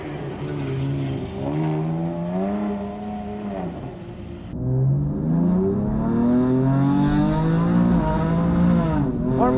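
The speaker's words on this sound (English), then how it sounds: "let's hop in the car and do some laps" A loud race car engine roars steadily, revving up and down through gear changes as it drives laps at speed at the Nürburgring, with no talk over it.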